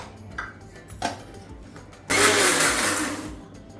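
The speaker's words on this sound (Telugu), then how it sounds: "ఇది మనం ఫస్ట్ మిక్సీ పట్టుకోవాలి" A mixer grinder starts up partway through and whirs loudly as it grinds garlic cloves with peppercorns, after a couple of brief knocks.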